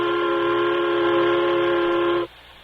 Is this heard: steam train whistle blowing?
yes